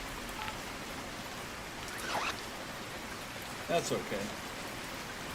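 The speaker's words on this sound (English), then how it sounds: "It's raining." Rain falls steadily as a soft, even hiss in the Pro Fishing 2 video game, faint and constant, with a couple of brief clicks and a short spoken remark.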